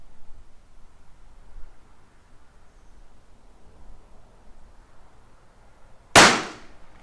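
A single sharp crack from a Tikka T1x .22 LR rimfire rifle, fired outdoors in wind, rising out of quiet background noise late on and decaying quickly.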